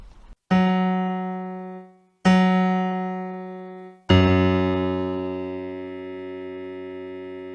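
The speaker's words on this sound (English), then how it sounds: "Listen carefully to the way the Yamaha sound begins." Three sustained notes on a Yamaha PSR-EW425 digital keyboard, each starting with a sharp, clean attack and ringing out, the last held longer and fading slowly.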